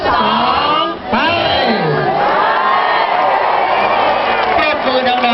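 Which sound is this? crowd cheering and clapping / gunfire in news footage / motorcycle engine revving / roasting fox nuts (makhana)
crowd cheering and clapping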